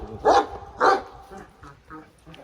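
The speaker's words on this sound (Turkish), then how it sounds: "Evet örnek bir boz çoban köpeği arkadaşlar." A grey Turkish shepherd dog gives two loud nearby barks, then quieter follow-up yips, with people talking faintly in the background.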